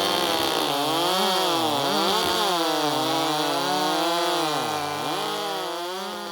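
A chainsaw runs close by, its engine revving so the pitch rises and falls in sweeping waves over a steady mechanical drone that fades slightly at the end.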